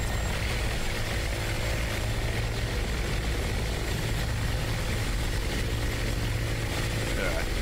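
Ka-50 attack helicopter in the DCS flight simulator, a constant droning rotor and engine hum holding steady and loud throughout.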